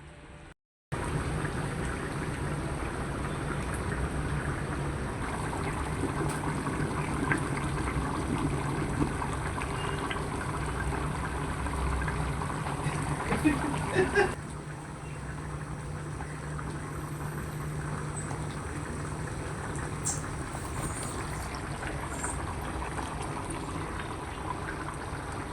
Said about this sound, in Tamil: இன்னும் சோறு வேகலில் பொங்கிக் கொண்டே இருக்குது